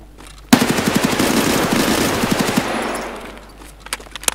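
A machine gun in the video game Escape from Tarkov fires a loud, close, rapid burst lasting about two seconds that then trails off into echoing reverberation, followed by a couple of fainter shots.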